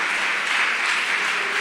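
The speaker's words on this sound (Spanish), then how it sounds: "Dale un aplauso fuerte a ese Dios que tenemos" Sustained applause from a church congregation, many hands clapping at once in a steady, full roar that holds evenly throughout with no talking over it.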